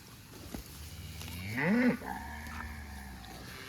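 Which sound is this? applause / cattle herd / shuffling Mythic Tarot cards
cattle herd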